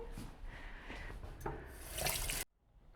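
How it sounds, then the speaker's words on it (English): Dishes are washed at a kitchen sink, with running water and soft clatter and rubbing close by for about two and a half seconds before the sound cuts off abruptly to near silence. "a little bit of washing up in the meantime"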